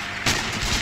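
A single sharp sniper rifle shot from the video game Sniper Ghost Warrior cracks out loud and close, followed by a brief booming decay.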